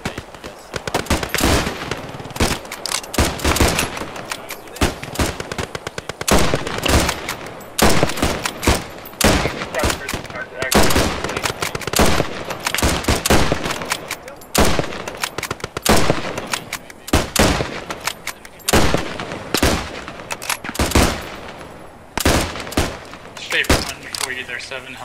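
Relentless gunfire in the WWII game Post Scriptum: dense, loud volleys of rifle and machine-gun shots crack almost without pause, overlapping into a chaotic sustained firefight.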